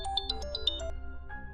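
A mobile phone ringtone plays alone, a bright electronic melody of quick, distinct tones that steps through a short tune and then holds a final sustained note, clear and close in an otherwise quiet room.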